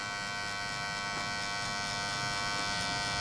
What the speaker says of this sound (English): Now I'm gonna come in, no guard, clipper open.